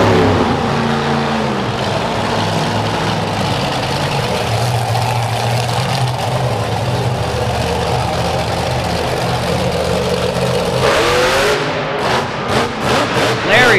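The Bigfoot monster truck's heavy engine roars and revs loudly at an indoor arena wheelie competition, a continuous deep drone that surges near the end, with an announcer talking over it.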